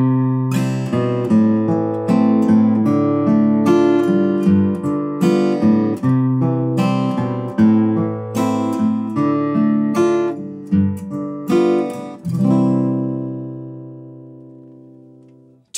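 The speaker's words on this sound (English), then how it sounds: "The 1-6-2-5 is very common in jazz music, but also widely used in pop." An instrument plays a 1-6-2-5 chord progression, a common jazz and pop sequence, in a steady flow of struck chords and moving notes. The last chord is held and slowly fades.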